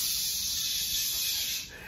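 A voice imitates a toy fire hose spraying water with a steady, close, breathy "shh" hiss lasting nearly two seconds, tapering off at the end.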